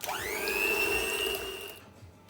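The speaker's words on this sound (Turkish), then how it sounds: "Üzerine hemen toz şekeri ilave edip çırpma makinemle iyice eriyene kadar çırpacağım." An electric hand mixer whisks eggs and sugar in a bowl, a close steady whine that spins up quickly, holds, then cuts off near the end.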